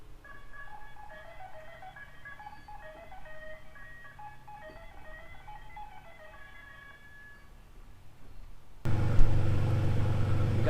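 A Toyota Tacoma truck idles steadily with a low rumbling engine note, then becomes much louder and nearer for the final two seconds, with no speech over it.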